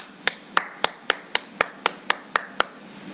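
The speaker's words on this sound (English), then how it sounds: "So can you all join me in giving her a round of applause?" Single person clapping slowly and steadily, about ten separate sharp claps spaced evenly over three seconds, fairly close, welcoming a visiting guest from the U.S. at a discussion event; not a full audience ovation.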